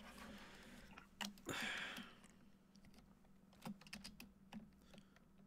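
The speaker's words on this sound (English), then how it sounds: "I'm gonna move my microphone so I don't hear the clicking." Computer keyboard clicking picked up by a nearby microphone during a podcast, scattered quick key taps and a brief burst of rustle, faint and irregular over a low hum, with no one talking.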